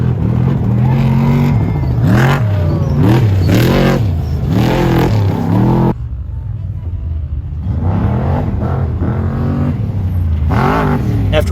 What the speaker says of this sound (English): we're gonna watch some trophy trucks fly down that hill, hopefully